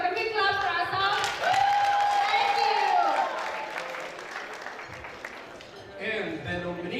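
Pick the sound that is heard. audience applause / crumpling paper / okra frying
audience applause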